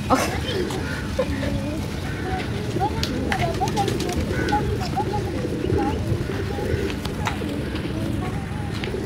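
Many pigeons coo softly and repeatedly amid a busy, noisy background with people talking nearby.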